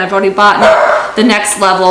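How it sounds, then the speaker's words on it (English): A dog barks repeatedly in the background of a home, its yips and bow-wows overlapping someone talking throughout. "Apologize for the barking in the background"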